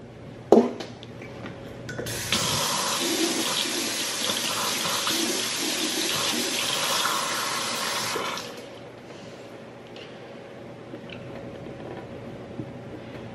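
Tap water runs into a sink for about six seconds to wet a suction holder, a steady close splashing stream that starts after a light knock and then cuts off, leaving quiet room tone.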